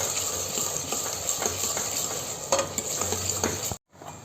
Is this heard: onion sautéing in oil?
yes